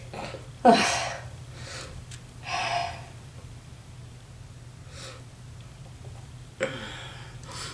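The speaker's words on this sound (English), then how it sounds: "That's an almost gonna sneeze." Sharp snorting inhales and gasping breaths come in uneven bursts, like a sneeze building up but never quite arriving, close and fairly quiet.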